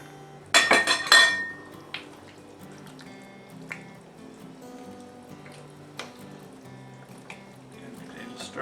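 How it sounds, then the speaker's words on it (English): Beef bouillon cubes dropped into a pot of venison chili, giving a cluster of clinking, clattering hits near the start followed by softer scattered taps and kitchen clinks. "Go ahead and put in our beef bouillon cubes."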